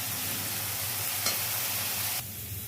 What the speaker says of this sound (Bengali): এবার দিয়ে দেবো কেটে রাখা রাঙা আলু।